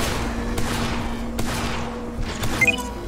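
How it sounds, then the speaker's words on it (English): Weapon fire in the video game Beacon: a few spaced, muffled shots pop over a steady background hum, with a faint electronic blip near the end. "Fire weapon."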